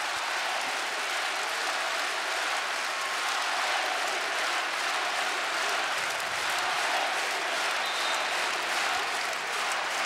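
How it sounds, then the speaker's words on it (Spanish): An arena crowd at a Spanish ACB basketball game, Obradoiro versus UCAM Murcia, gives a sustained ovation for player Pavel Pumprala: a continuous wash of clapping and crowd noise, even and loud throughout. "Ovación para Pavel Pumprala"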